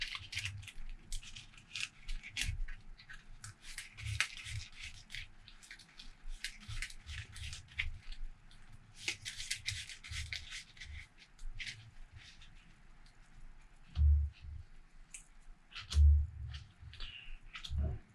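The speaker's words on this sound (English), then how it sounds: "Alright, so let's shuffle this." Cards from a board game deck being shuffled by hand, soft papery riffles and shuffles with intermittent low thumps from the cards being tapped together on a table, fairly quiet and irregular.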